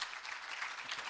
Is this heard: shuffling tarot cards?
no